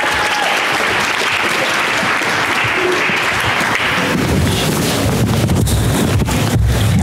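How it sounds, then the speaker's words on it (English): An audience at a startup incubator pitch event applauds, a loud, steady wash of clapping that continues throughout with no talk. "Round of applause for Snap Adventure"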